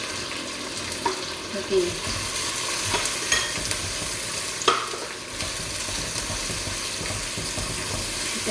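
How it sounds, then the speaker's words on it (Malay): Curry leaves and tomato sizzling in a clay pot with shallots and garlic, a steady dense frying hiss with occasional stirring clinks and pops, and a brief spoken word. "sekarang kencana nak masukkan daun kari."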